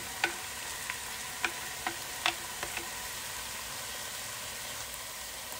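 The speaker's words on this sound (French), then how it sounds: "j'ai frit un petit peu les oignons avec la viande" Onions and meat frying in a pan for Moroccan berkoukes, a steady low sizzle under a few sharp clicks and taps of utensils against the pan, no voices.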